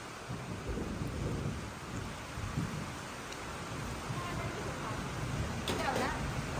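Steady rain pours throughout with low rumbling thunder rolling underneath, a continuous dense wash of sound close by.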